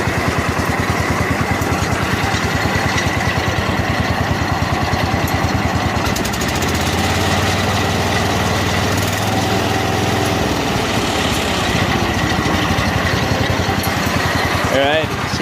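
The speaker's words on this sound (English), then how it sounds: "Idles down nice and quiet." A 1977 John Deere 210 lawn tractor engine running loud and close in a steady rapid putter, then settling into a smoother, quieter idle, with someone speaking over part of it.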